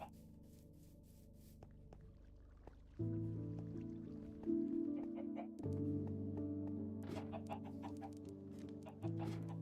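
Chickens clucking in the Minecraft video game near a waterfall, short soft clucks over a steady layered droning tone that jumps in level partway through, with dripping water sounds.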